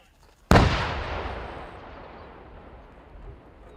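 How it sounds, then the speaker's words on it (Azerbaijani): A controlled detonation of landmines in Jabrayil and Zangilan sets off one sudden, loud blast that rolls into a long, fading rumble, with no talk. "partlayış."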